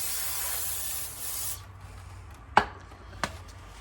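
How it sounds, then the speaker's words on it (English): Brake cleaner sprays from an aerosol can onto the brakes of a 2016 Toyota Highlander during a brake job, giving a steady close hiss for about a second and a half, followed by quiet and two sharp clicks. "Some brake cleaner, clean it out as much as you can."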